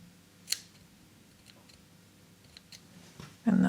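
Scissors snip a yarn tail on a tiny woven scrap-yarn rag rug, giving one sharp close cut followed by a few faint clicks in a quiet room, then a brief louder rustle at the end.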